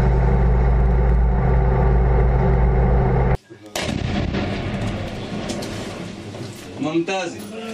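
Heavy, sustained rumbling of gunfire and artillery with tank fire during combat in Syria's Al Qabun, then a sharp break followed by scattered bursts and distant booms with voices mixed in.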